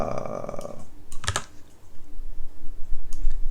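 Keystrokes on a computer keyboard while writing web code: a few sparse, sharp clicks and a short burst of taps, fairly quiet and close, with no one talking.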